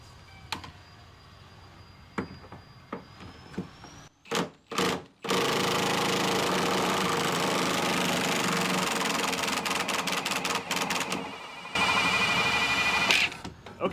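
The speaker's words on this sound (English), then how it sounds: "Throw this on the impact driver and see what happens." An impact driver works loose a stuck bolt on a 1958 Victress C3 car being restored. A few short bursts come first, then a long, loud, continuous rattling hammer with brief dips, ending in another short run.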